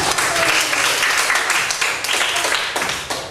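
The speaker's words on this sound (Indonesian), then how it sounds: "Luar biasa, tepuk tangan dong." A training session audience bursts into applause, a dense, loud run of many hands clapping close by, steady with slight surges and no voices on top.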